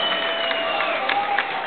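A convention audience at an anime event in Buenos Aires claps and cheers in a dense, steady wash of applause that fills the whole clip.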